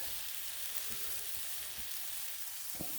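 A burger bun pressed onto a hot Blackstone griddle sizzles in a steady, faint hiss, broken by a few soft bumps and scrapes.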